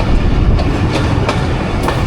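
On the Jaffar Express, a through train rolls slowly past with a steady heavy rumble and a regular clickety-clack of wheels over rail joints, loud and close, with no voices.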